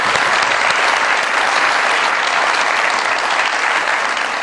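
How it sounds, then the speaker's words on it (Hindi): Loud, sustained applause from a comedy show's studio audience fills the whole stretch, steady and dense without letup. "बहुत सारी तालियां जी मेरे मेहमानों के लिए"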